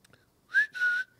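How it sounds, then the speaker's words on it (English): A person whistles two clear, bright sustained notes in quick succession, the second held longer, close and alone with no talk. "I can do like a bunch of whistles."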